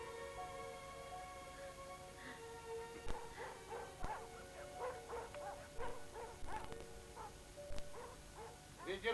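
A dog gives repeated yips and short barks, some whimpering, over a steady background hum at moderate distance, with no talking.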